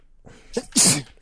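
A single loud, close sneeze: a short in-breath followed by a sharp explosive burst, then quiet.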